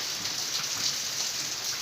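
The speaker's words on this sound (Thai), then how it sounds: "มาฟังเสียงธรรมชาติเสียงฝนตกนะ" Steady rain falling in Doi Tao district, a dense, even patter on surfaces that stays constant throughout, with no voices.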